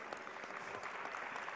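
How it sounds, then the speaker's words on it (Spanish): A group at handball training claps for a player, a faint, brief patter of applause with no talking over it. "Un aplauso para Polo."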